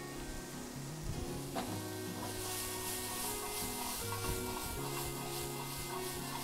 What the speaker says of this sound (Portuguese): Deixa mais dar uma refogada, mais uma murchadinha de leve, tá?